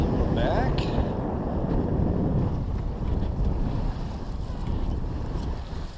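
Steady wind buffeting a sailboat working into a headwind on Lake Erie near Dunkirk, New York, with continuous low roaring gusts and water wash, fairly loud and unbroken throughout.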